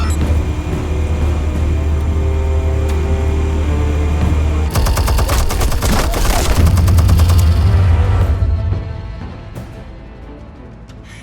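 Gunfire in the Batman Telltale Series video game: a low engine rumble first, then a burst of rapid machine-gun fire with booms that fades out toward the end, loud and near, with no talking.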